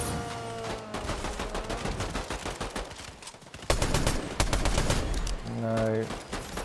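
Rapid automatic gunfire from a first-person shooter game rattles in loud sustained bursts, with a heavier volley after a short dip, under occasional voices and game music.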